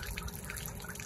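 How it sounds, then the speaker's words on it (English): Fire sprinkler water drains out of a building pipe through an auxiliary drain in a loud, steady gushing rush that holds unbroken from start to finish. "that's how much water's still coming out"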